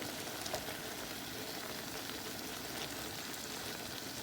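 Eggplant stew with vegetables bubbling in a pot, a soft steady simmer with faint crackling and popping, heard alone and fairly quiet.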